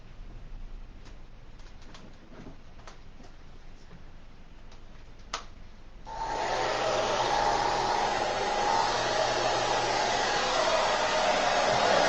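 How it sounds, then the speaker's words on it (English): A hair dryer drying chalk switches on partway through and blows with a steady, loud whooshing roar, after a few seconds of quieter background with faint ticks. "I'm going to get my blow dryer, and I am going to dry this a little bit."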